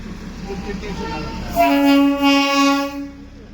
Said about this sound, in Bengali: ওই ট্রেনের আওয়াজ পাচ্ছি,